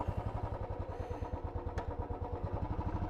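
A motorcycle with sticking gears idles with a steady, close, throbbing beat, and a single sharp clunk cuts through partway in.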